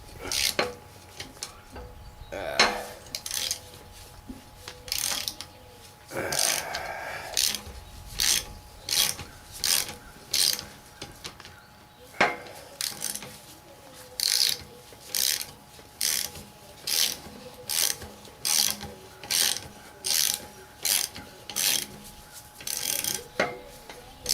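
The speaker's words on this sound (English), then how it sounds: "This ratchet here's had it, but we're going to use it." Worn ratchet wrench clicking in regular bursts as it loosens bolts on a Dana 80 rear differential from a Ford F350, with steady repeated ratcheting strokes and a few heavier clunks, close and loud with no talk.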